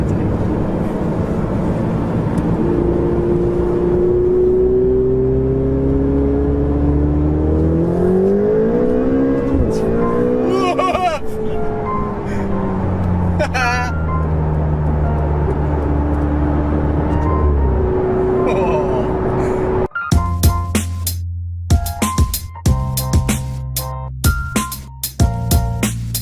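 A Ferrari 488 GTB's turbocharged engine drones loudly from inside the car while driving, its pitch rising and falling with throttle. A sharper, clattering burst of revving follows near the end.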